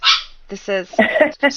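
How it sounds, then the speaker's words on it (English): A pet dog barks and yips sharply at close range in a few quick bursts, tangled with a person speaking over it. "that is my dog who is jealous that I'm doing a show without her"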